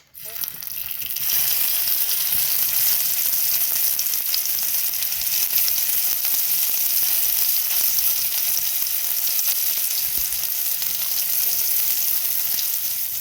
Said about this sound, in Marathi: तवा तापलाय आता आपल्याला तव्यात हे तेल टाकायचं आहे